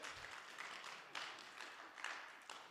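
An audience at a talk claps in a faint, distant patter that swells in several brief bursts of applause, with no voices over it.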